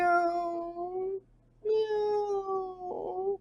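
A narrator's voice imitates a cat meowing: two drawn-out, tonal meows separated by a short pause, close and clear with no other sound around them.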